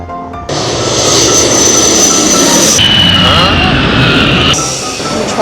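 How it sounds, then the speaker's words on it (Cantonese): A jet airplane arrives on an airport apron, its loud engine roar continuous and close, with high whining tones that shift pitch partway through as it rolls in. "我架飛機就嚟到啦"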